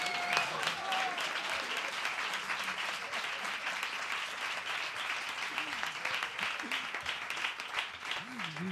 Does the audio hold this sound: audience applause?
yes